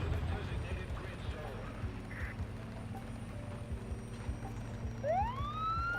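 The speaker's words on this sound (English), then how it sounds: "The sirens are on. They're in pursuit." Police car sirens wail during a chase in a video game, the rising siren sweep bursting in loudly near the end over a steady low engine drone and game background noise.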